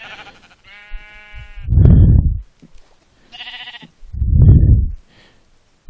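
Sheep bleating in the Minecraft video game, two long wavering bleats with a pair of higher, buzzier calls between them, loud and close with no talk.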